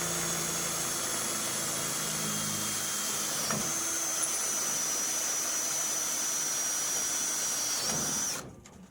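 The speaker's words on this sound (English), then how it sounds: "Take my drill, and I drill through the hole" A power drill whines steadily as it bores through a pilot hole in a hardside boat blind flap, a loud continuous high-pitched motor tone that cuts off sharply at the end.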